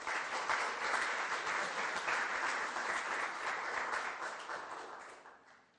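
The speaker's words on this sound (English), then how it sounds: "Please give a round of applause for Sister Pat Murray." Audience applause for a speaker at a symposium on women religious in Rome, a dense steady clapping that stays loud before tapering off at the end, with no talking.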